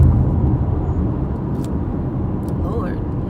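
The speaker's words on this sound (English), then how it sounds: "Lord, this traffic is crazy" Road traffic rumbles in a steady low wash throughout, close and fairly loud, with a couple of brief sharp clicks and a faint rising tone near the end.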